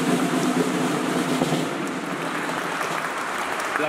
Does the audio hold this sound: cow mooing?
no